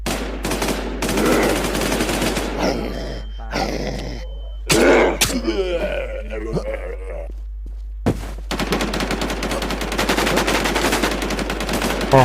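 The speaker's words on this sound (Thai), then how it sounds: "ใครยิงนะ" Gunfire in the online shooter Infestation, bursts of rapid automatic fire with single shots between, loud and dense at times, with voices talking and groaning over parts of it.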